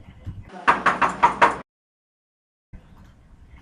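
Four quick, loud knocks land on a door in a Tamil short film, evenly spaced in a tight burst, followed by a moment of silence and then faint background room sound.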